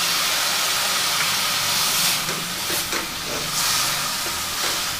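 White vinegar poured onto frying chillies in a hot pan sets off a loud, steady hissing sizzle with crackling spits, continuous and close, no talking.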